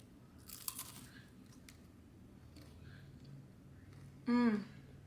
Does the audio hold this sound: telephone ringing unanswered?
no